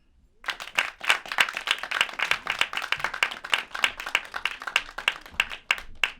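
Audience applause for a poet at a comedy show and awards event, a dense burst of clapping that starts abruptly and rolls on steadily, loud and close, with no voices over it.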